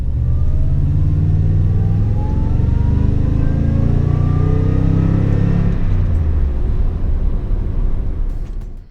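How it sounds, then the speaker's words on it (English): A Toyota Tundra Platinum pickup with TRD Pro suspension on a road drive, its engine a loud, steady low rumble with rising and falling tones as it accelerates and shifts, easing off near the end. "So I'm gonna drive this thing around and then I will come back with a little report."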